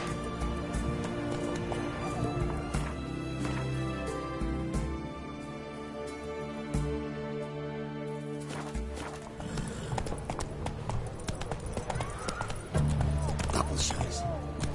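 Roach, a horse in The Witcher game, moves with rhythmic clip-clop hoofbeats under background music and spoken voices, with a snort or whinny in places.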